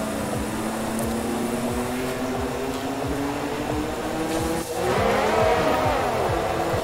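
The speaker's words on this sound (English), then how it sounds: "Oh, here comes Perez side by side" Formula 1 cars at speed on the Canadian circuit, engine notes rising and sweeping through gears as cars run side by side, a steady dense roar with overlapping tones and a brief dip before a fresh climb.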